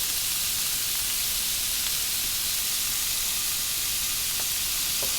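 Minced meat, 600 g, sizzling in a pan with shallots for a hachis parmentier: a steady, dense frying hiss held at an even level throughout, with a few faint clicks and no voices.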